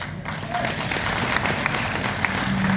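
An audience at a marketing seminar in Agra claps together in a full, continuous burst of applause, with a few sharper individual claps standing out.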